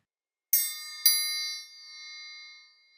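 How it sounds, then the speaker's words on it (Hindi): A triangle from an RSS ghosh band is struck twice in quick succession, each bright metallic ring sustaining and slowly fading in an otherwise silent, close recording. "त्रिभुज यानी ट्रायंगल"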